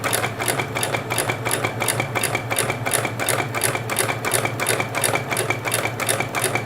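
Sewing machine doing free-motion thread painting on a gnome pattern, a close, even mechanical chatter with fast regular needle strokes pulsing throughout.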